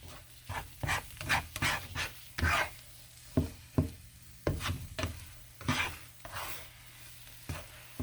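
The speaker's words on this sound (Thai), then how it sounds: "ถ้าเราทำเป็นไข่ม้วนๆกับชีส เราก็ทำเป็นไข่เป็นแผ่นเป็นม้วนนะคะ" An egg and cheese omelette fries in a pan, with faint sizzling beneath a series of irregular scraping and stirring strokes from a utensil against the pan.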